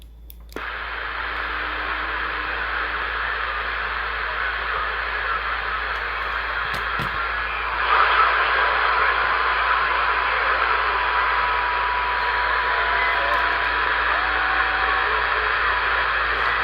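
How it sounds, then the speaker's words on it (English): Steady hissing static from a Realistic TRC-465 AM/SSB CB radio, continuous and fairly loud for the whole stretch, with faint tones and voices barely surfacing in the noise. "I can hear voices starting to mix in with the static a little."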